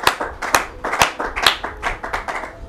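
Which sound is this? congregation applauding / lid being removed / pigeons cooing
congregation applauding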